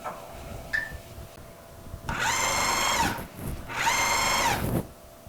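A blender whirs through a poblano cream sauce in two short bursts of about a second each, with a brief pause between them. The motor is loud and close, and no one talks over it.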